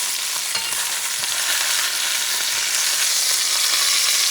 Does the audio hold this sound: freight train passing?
no